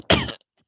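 A single short, harsh cough, voiced by a person imitating the strained cough of someone who vapes, close and loud, then silence.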